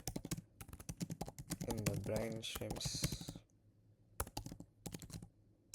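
Typing out an exam answer on a computer keyboard, bursts of quick close key clicks with a brief spoken word in the middle.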